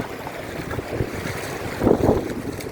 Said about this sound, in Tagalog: Lakas ng alon guys o.